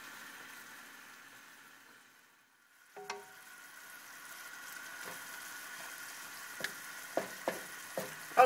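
Shrimp frying in a pan for Thai dried red curry (choo chee), a soft steady sizzle with a few sharp clinks and scrapes of a utensil toward the end, no talking.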